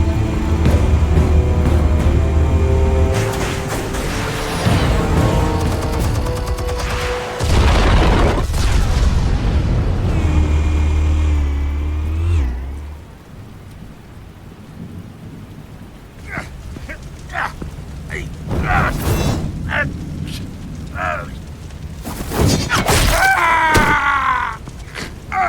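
Heavy booming blasts roll out as explosives detonate in Batman: The Telltale Series, deep rumbling bursts mixed with game music and effects, followed by quieter scattered impacts and sounds later on.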